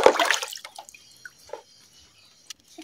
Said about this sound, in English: let us also wash our aloe vera